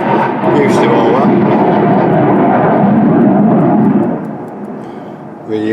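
RAF military aircraft roaring low overhead in the Lake District, a loud, broad engine rumble that holds steady for about four seconds before fading away, with a short whoop of voice near the end.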